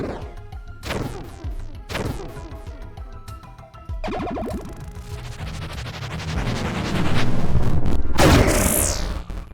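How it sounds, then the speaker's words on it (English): Explosions in the video game Bastard Bonds boom in several loud bursts of crashing, crackling noise, the last one biggest and longest, with no talk over them. "Just needed a couple of explosions"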